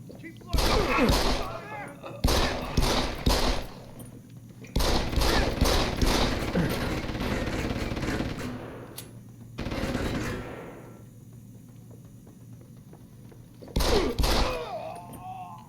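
Gunfire in the video game Deus Ex: Human Revolution, with several close bursts of rapid shots separated by pauses, and a final short burst near the end.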